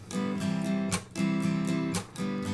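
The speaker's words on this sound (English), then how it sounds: "It's like a percussive slap strum on the 2 and the 4 counts" Strummed guitar chords alternate with sharp, percussive slap chops on the two and four counts, in a strumming pattern played close and clear.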